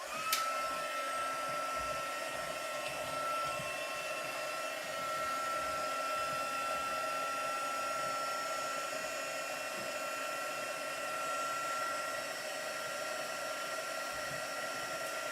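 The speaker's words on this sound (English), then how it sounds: "The heat gun has to warm up." Heat gun blowing steadily to melt embossing powder on a card, a loud continuous whooshing drone with a constant pitched whine, running alone without pause for the whole stretch.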